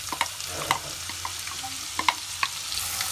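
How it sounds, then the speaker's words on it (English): Onion browns in a frying pan with a soft continuous sizzle, punctuated by scattered sharp clicks of a utensil stirring against the pan, close and moderate in level without any speech. "add your onion and brown up your onion"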